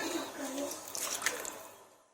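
Chicken broth ladled from a pot onto potatoes in an oval baking tray, a brief liquid pour with soft splashing and squishing that fades out within about two seconds.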